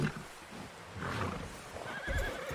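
A horse in Red Dead Redemption 2 neighs and snorts close by, a brief, breathy whinny over a low rumble of ambient game sound.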